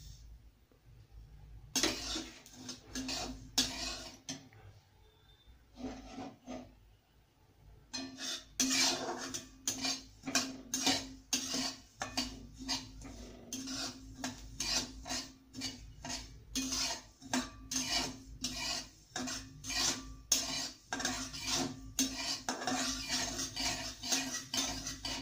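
Poppy seeds are dry-roasted in a kadhai and stirred steadily. Quick metal spoon scrapes and clinks form a fast, busy rhythm that pauses briefly near the start and then runs continuously, fairly close, with no speech.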